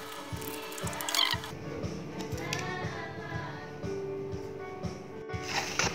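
Scissors snip through cardboard cut into a raindrop shape for a children's craft, giving a series of short crunchy clicks and rasps at a fairly steady pace, close and clear, with no voices.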